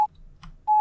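Short electronic beeps in the horror game Red Mist, two steady tones, one at the start and one longer at the end, with a faint blip and a brief murmur in the quiet gap between them.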